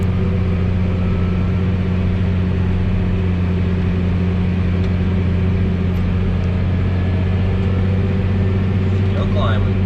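A truck engine pulls a loaded triaxle manure trailer at full acceleration, producing a loud, constant, deep mechanical hum.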